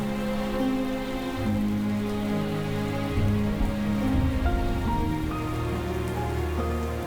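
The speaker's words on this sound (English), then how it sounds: "But the nest also soaks up the rain, making it dangerously heavy." Heavy rain pours onto a camelthorn acacia tree and the large nest in its branches, a steady, dense downpour hiss close by with no let-up, under a soft low musical drone.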